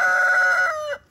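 A close, loud rooster crow rings out at a chicken coop, ending abruptly after about a second.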